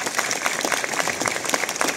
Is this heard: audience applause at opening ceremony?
yes